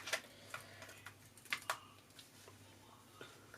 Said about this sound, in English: and then I'm just going to cut that out.